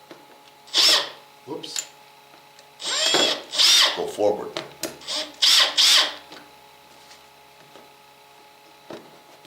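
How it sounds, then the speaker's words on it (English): A power drill drives a bolt into a Suzuki DR650 motorcycle during a battery change, sounding in several short whirring bursts close by, with a brief spoken exclamation between them. "So let's use our drill here."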